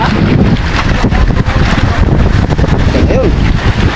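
Strong wind buffets the microphone aboard a small fishing boat on a whitecapped sea, a loud continuous roar with rushing water underneath throughout.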